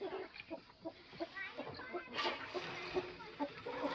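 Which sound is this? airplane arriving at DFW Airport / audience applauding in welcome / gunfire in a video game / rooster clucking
rooster clucking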